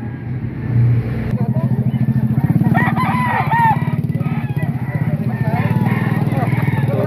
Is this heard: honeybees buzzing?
no